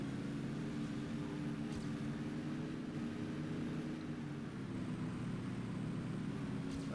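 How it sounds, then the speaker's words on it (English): Car engine droning steadily nearby in a racing video game, a continuous low hum that stays close and even for the whole stretch. "I hear a car sound again"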